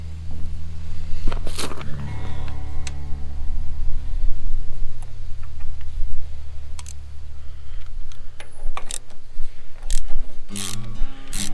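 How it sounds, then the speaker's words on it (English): A hand socket tightens an oil pressure sending unit back into a Kubota L185 tractor engine, with loud ratcheting clicks, scraping metal contacts and knocks in irregular bursts close by, no talk. "Using our oil pressure sending unit socket, we'll tighten this up."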